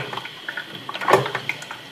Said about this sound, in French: ouvrir son robinet pour se faire un café